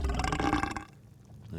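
A character in The Dungeons of Naheulbeuk, a humorous turn-based tactical RPG, lets out a loud, deep, guttural burp that rumbles for under a second, then gives way to a quieter rasp.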